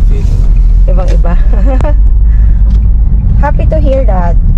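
A car's interior rumble while driving in the UK, a loud, steady low drone throughout, with people chatting over it.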